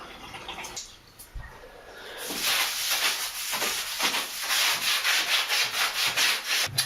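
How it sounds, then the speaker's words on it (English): Sealer is scrubbed into shower grout in rapid rhythmic rubbing strokes, a close, fairly loud scratchy swishing that starts softly and settles into a steady back-and-forth pace. "You really want to rub that sealer in till you know it's penetrating into that grout."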